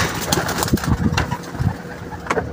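Pigeons coo inside a loft, with soft low coos scattered through the clip over a rumbling engine-like hum.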